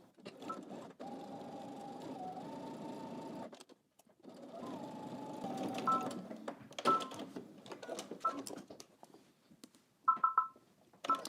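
Sewing machine stitching close to the edge of a pocket, running in several sustained bursts with brief pauses between them, then lighter clicks and short whirs, fairly quiet overall.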